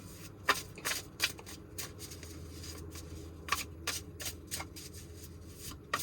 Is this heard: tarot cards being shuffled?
yes